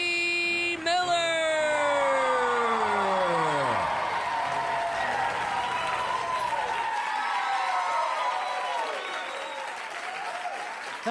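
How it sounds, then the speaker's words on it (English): A comedy club audience cheers and applauds as the host of Gotham Comedy Live takes the stage, sustained clapping and whoops following a descending musical swoop, fading slightly toward the end. "that cheer was accepted, and I'm grateful"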